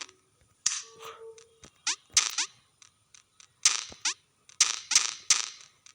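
Game bullets firing in the video game Level Devil, a series of sharp, snappy synthetic shots in irregular bursts, some clustered in quick triplets, with quiet gaps between.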